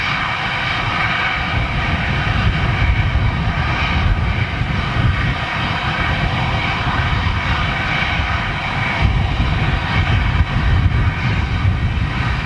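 Embraer jet aircraft at Manchester Airport produces a loud, sustained engine roar with a steady whining drone over deep rumble, holding constant throughout with no speech.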